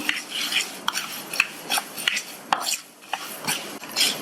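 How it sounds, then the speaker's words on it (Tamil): Green gram and chana dal dry roasting in a pan, stirred with a utensil: repeated scraping and rattling strokes of grains against metal at a steady rhythm, close and moderately loud with no talk. "கிராம் பச்சை பயிரும் 50 கிராம் கடலை பருப்பையும் சேர்த்துட்டு ரெண்டையும் வறுத்துக்கலாம்."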